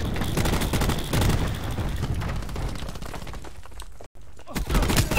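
Rapid, loud gunfire from a weapon in Call of Duty Black Ops 4, with dense overlapping shots close up through most of the stretch, a brief dropout near the end, then more firing.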